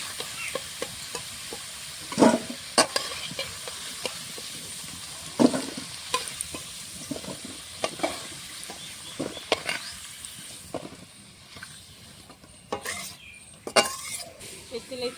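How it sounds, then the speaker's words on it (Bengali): Potato pieces fry in hot oil in a pan while being stirred, giving a steady close sizzle broken by frequent scraping and clacking from the utensil against the pan. "দেখো আলুটা লাল লাল করে ভেজে নিচ্ছি"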